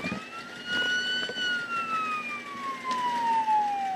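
A police siren wails steadily, its pitch slowly sliding downward, sounding moderately close with no talking.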